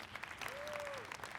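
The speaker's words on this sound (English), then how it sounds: "Let's give Justin and our customers a round of applause" Audience applause at a corporate technology presentation, a brief, faint burst of scattered clapping with a short tone sliding across it.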